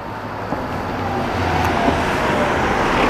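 A car engine idles unevenly on a city street, a steady low rumble with traffic noise around it, fairly close and without talk.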